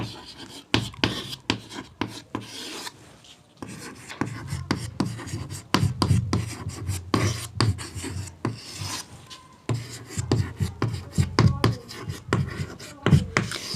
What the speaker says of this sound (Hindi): पहले मैं टॉपिक का नाम लिखती हूँ